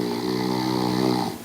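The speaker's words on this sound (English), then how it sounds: "Snoring can ruin a restful sleep for you and others." A person snoring at night, one sustained, rumbling, nasal breath that fills most of the moment and fades at the end, heard close and fairly loud with no talk.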